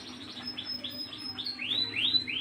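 Pet canaries chirp indoors in quick, bright repeated calls that grow louder toward the end, alone without talk.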